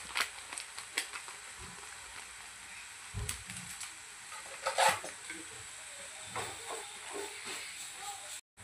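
Mutton masala, seasoned with Everest mutton masala spice, fries in oil on a tava with a steady soft hiss and sizzle, broken by scattered scraping clicks of stirring and a few louder clatters.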